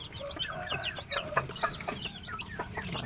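Free-range kampung chickens raised for meat cluck and chatter continuously at feeding time, with many overlapping short calls from a flock close by and no talking.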